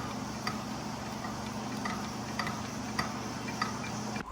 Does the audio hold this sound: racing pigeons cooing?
no